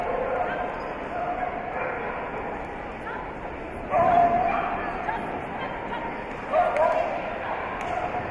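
Dogs bark in short bursts at an agility competition in a 16-inch hybrid class, set against a busy arena hubbub, with a couple of louder yips standing out and an announcer talking over the noise.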